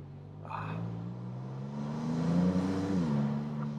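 A Maserati MCPura supercar climbing a hill with the top open, its engine droning steadily and then revving up to a loud, rising peak before easing back as it shifts.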